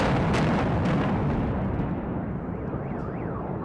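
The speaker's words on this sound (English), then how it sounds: "Now, let's implode the building." Building implosion played back through a venue system: a dense, sustained roar of blasts and rumbling collapse, loud throughout, with sharp cracks early on and a car alarm's warbling tone emerging faintly as the rumble eases.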